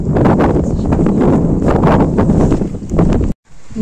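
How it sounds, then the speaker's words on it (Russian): Strong, icy wind buffets the microphone outdoors near a bus stop in a town during a holiday, a loud continuous roar with gusty rumbles that cuts off abruptly near the end, then resumes. "Ветер вообще просто ужасный. Ужасный и ледяной вообще."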